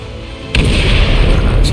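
Explosion in Marvel's Midnight Suns on PS5, a sudden loud boom cutting in after a quiet moment and leaving a dense, rumbling roar that holds for over a second.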